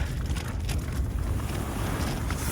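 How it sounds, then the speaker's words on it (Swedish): Strong, near-stormy wind blowing across a tent pitched in an open field on the Nordkalottleden trail between Kilpisjärvi and Abisko: loud, rumbling gusts buffeting the microphone steadily, close and without talk. "nu blåser det satan"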